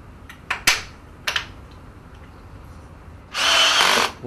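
Power drill driving screws into the sides of an aquarium cabinet, with a few short clicks and knocks followed by a loud, steady whir of about a second, close by and with no talking.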